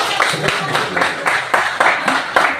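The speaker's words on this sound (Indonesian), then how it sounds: "Oke, tepuk tangan dulu" Classroom students clap their hands together in a regular beat of sharp, fairly loud bursts, with voices audible between the claps.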